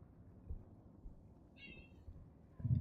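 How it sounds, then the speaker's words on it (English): A single short cat meow, close but fairly quiet, over faint room noise with a soft thump near the end. "You're such a loud kitty."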